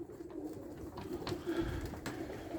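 Pigeons coo softly in low repeated murmurs, with rustling and a couple of sharp knocks nearby, no one speaking.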